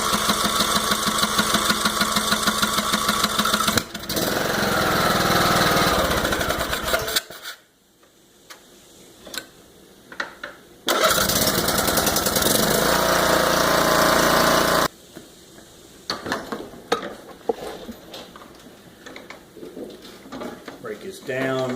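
Briggs & Stratton engine on a John Deere LA105 riding mower running with a steady mechanical drone in two bursts, cutting out between them, with handling noises in the quieter gaps.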